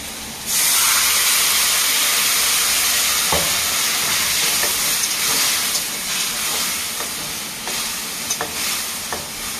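Water poured into a hot pan of sizzling hilsa fish masala for a spicy cucumber jhal sets off a sudden loud hiss that stays as a steady, close sizzle, with a few light clicks of stirring and no talking.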